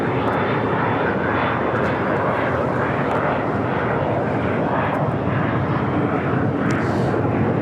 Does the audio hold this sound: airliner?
yes